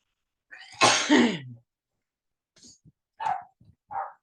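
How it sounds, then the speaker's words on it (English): A dog barks a few times up close, a loud burst of barking followed by several shorter, sharper barks after a brief pause, with no talking over it. "That's my dog Lunar barking"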